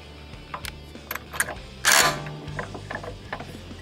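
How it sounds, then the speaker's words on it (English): A 1-inch socket ratchet tightens the driven pulley on a TrailMaster Storm 200 minibike, giving a series of close mechanical clicks and clatters with one louder grinding burst in the middle. "we're going to use a 1-inch socket tighten down our driven pulley."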